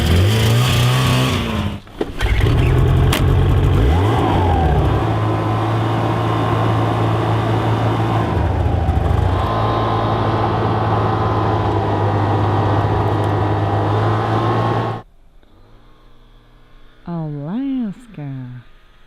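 A vehicle engine labors up a steep, soft snowy ridge in winter Alaska, a loud close steady drone with shifting revs that cuts off near the end, followed by brief talking.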